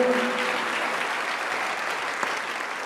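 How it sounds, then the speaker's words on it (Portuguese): A church congregation of about forty members applauds during a gospel preaching gathering, a steady burst of hand clapping at a fairly even level for the whole moment. "Palmas para ele da comunidade."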